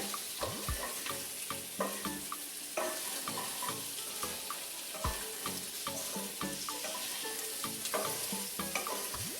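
Shrimp fry in a pan of curry with turmeric: a steady close sizzle with repeated scraping and clinking as the pan is stirred, and no talk.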